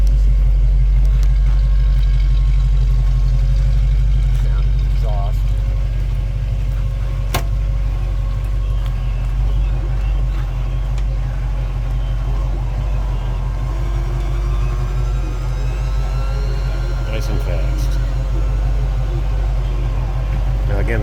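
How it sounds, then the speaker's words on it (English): A restored 1965 Ford Mustang convertible with a 289 V8 and automatic transmission lowers its power top. A continuous low electric-motor drone runs for about twenty seconds, with occasional faint clicks and creaks over the hum. "So I'll run that down one more time."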